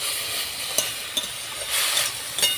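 Khesari greens tossed in a hot kadai with dried chillies and black cumin, spatula scraping and clinking in short strokes over a soft steady sizzle, close up.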